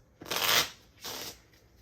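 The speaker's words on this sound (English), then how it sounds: "So I'm just giving a good shuffle, and we'll draw the first card." A deck of playing cards gets shuffled in two quick riffling bursts, the first longer and louder, the second shorter, close up with no talking.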